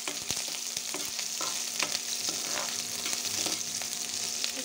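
Onions fry in a pan with green chillies and get stirred, a dense, constant sizzle with frequent scrapes and taps of the spoon, and no one speaking.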